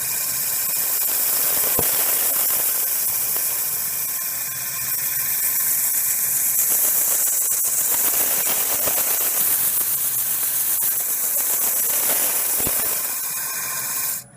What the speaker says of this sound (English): what that's doing is that's spinning this round, and as it's spinning, it's sanding.